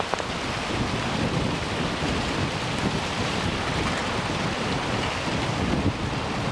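Strong wind outdoors buffeting the microphone during fire making, a dense, steady rushing roar with no pauses and no voices.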